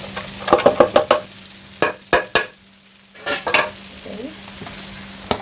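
Fried rice ingredients dropped into melted butter in a pan, a series of close clattering stirs and scrapes with sizzling bursts between quieter pauses, and a brief spoken word.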